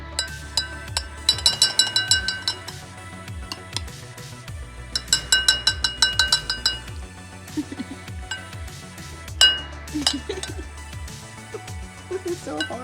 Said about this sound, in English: So, using the spoon, You're gonna put the shaving cream on top so that the glass becomes 2/3 full.